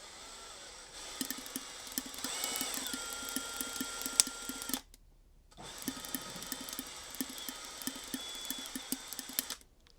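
A drill spins an American LaFrance V12 engine for an ignition test, a rapid ratcheting whir with clicking pulses in two bursts separated by a short pause, close and fairly quiet.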